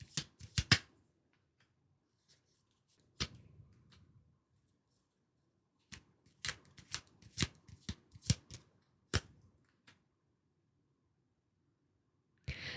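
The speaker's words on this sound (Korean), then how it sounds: "카드 뽑아보겠습니다" Tarot cards are shuffled close by in quick bursts of crisp riffling and flicking, separated by quiet pauses. The sound is soft overall, with no talking.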